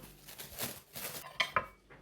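A buttercream-filled roll cake is sliced for serving, with a knife clinking sharply twice against a plate or board amid soft handling sounds, close and fairly quiet.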